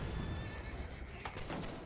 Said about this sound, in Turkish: At korktu bu arada mermi sıkınca.